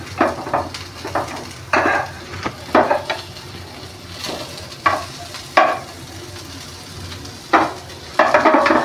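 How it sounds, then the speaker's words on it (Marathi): Stuffed masala bitter gourd fries in a pan while the pieces are gently turned over, giving a steady sizzle under a series of scraping and knocking spatula strokes, close and fairly loud, with no speech. "अशा प्रकारे असं पलटून घेऊ आपण."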